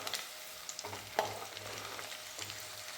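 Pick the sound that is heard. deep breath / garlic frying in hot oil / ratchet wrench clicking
garlic frying in hot oil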